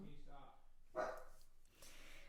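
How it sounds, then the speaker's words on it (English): A dog barks from behind a glass main door indoors, with one louder, sharper bark in the middle between softer, muffled vocal sounds, all fairly close. "I wanted to hear how my dog sounded actually on the microphone as well"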